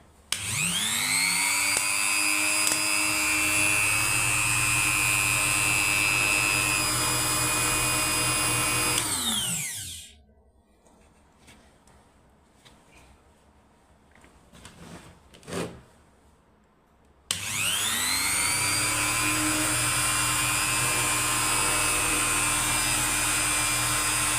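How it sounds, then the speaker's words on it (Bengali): A drill and an electric fan running together off a homemade multi-plug: a loud steady motor whine that cuts out for several seconds, with faint clicks and handling in the gap, then starts again at full strength. "এখানে হচ্ছে একটা ড্রিল মেশিন চালাইছি আর একটা ফ্যান চালাইছি।"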